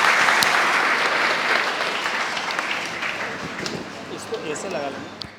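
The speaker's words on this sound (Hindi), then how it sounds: "जोरदार तालियों के साथ उनका स्वागत करिए" A seminar audience of exam-coaching students gives a guest a sustained, dense round of applause that fills the room and tapers slightly toward the end.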